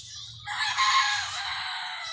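A female Fayoumi hen crows like a rooster, one loud, drawn-out call of under two seconds, close by, rising slightly and then trailing off over a low background rumble.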